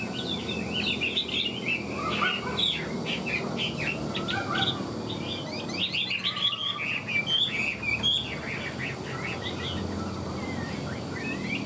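A hwamei songbird with a fanned tail sings a loud, continuous stream of rapid varied whistles and chirps, close and clear over a steady background hiss, with no talking.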